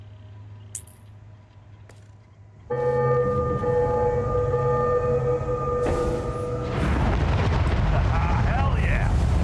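A missile pod fires in a spaceship video game, a sudden loud roaring launch that swells into a sustained rumbling blast with a low drone, then a broader noisy burst toward the end.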